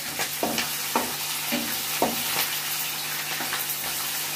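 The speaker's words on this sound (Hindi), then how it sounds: "इसको फ्राई करेंगे।" Potato and bitter gourd pieces frying in hot oil in a pan, a steady sizzle broken by regular scraping stirs of the spatula about every half second, close up with no talk.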